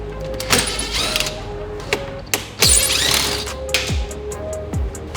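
Small screws being removed from a dashboard bezel on a 1995–2001 Honda Civic, with sharp clicks, ratcheting and plastic clunks at an irregular pace, close and fairly loud, with no talk.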